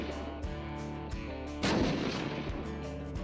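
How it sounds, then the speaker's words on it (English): A grenade goes off in the Unturned PvP video game as a loud, sudden boom about halfway through, with rumbling debris after it. It sits over a steady bed of game background sound, and nobody speaks. "I'm gonna chuck a grenade at him."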